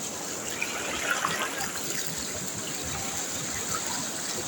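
A stream rushing steadily past, its continuous broadband wash of flowing water holding an even level from start to finish with no voices over it.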